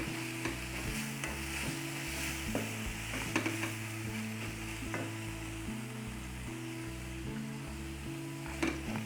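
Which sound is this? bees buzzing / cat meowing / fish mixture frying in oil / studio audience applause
fish mixture frying in oil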